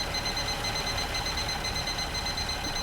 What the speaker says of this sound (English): There was a timer going off in my house